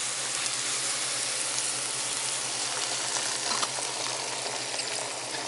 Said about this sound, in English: you add the egg mixture on top of it